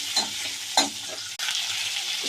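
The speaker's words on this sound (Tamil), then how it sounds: "அது கூடவே தக்காளியும் கருவேப்பிலையும் போட்டு வதக்கிக்கலாம்" Small shallots, tomatoes and curry leaves sauté in a pan for a fish curry, making a close, steady sizzle with a few sharp stirring scrapes and one brief clack.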